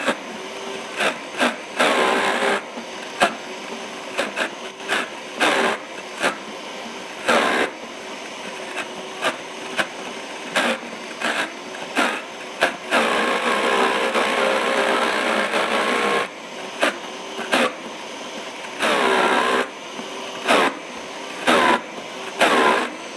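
A Vitamix blender whirs loudly as it purees hummus, running in repeated short pulses and then a longer sustained blend, with brief pauses between bursts.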